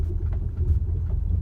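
A Mack dump truck rolls onto a yard of dirt piles and stumps, its engine giving a steady, close, low rumble throughout with no talk over it.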